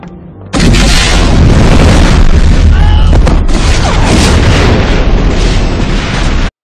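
A sudden loud explosion bursts in after a quiet moment and keeps roaring and crackling at full intensity for several seconds before cutting off.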